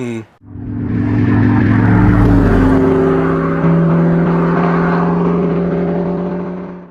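A Noble M600 sports car engine starts up and settles into a loud, deep, rumbling idle with a throaty revving character, close by and steady.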